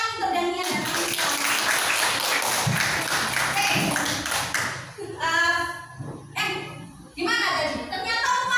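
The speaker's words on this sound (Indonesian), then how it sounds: "tepuk tangan untuk Daniel dan Anissa" Students in a classroom clap for two classmates, a dense burst of hand claps lasting about five seconds, followed by a teacher talking with brief bits of clapping between her words.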